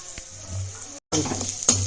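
Garlic frying in a pan for mixed dum idli: a steady, fairly loud sizzle close by, cut by a brief silent break, then resuming with light stirring clinks.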